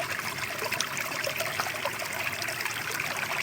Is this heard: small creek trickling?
yes